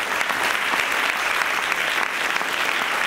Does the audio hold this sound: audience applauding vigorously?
yes